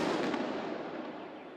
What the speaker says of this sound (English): Security detonated it in a controlled explosion